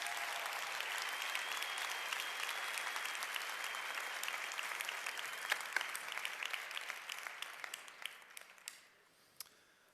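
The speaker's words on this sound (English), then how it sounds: "Give yourselves a round of applause." An audience gives a round of applause, thick sustained clapping that thins out and fades toward the end, with a few last scattered claps.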